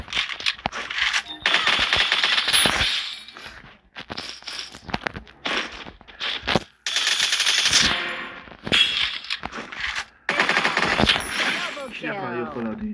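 Bursts of automatic fire from a P90 in the Free Fire mobile game crackle in quick, loud, repeated volleys with short gaps between them. A player talks over parts of the gunfire.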